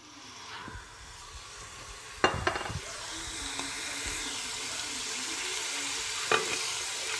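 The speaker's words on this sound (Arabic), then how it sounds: "نخليوه يتقلى مليح حتى يدبل لنا الكابويا والبصل تاعنا" Kabocha squash and onion fry in a pan with a soft, steady sizzle, broken by a few sharp scrapes and clinks of stirring.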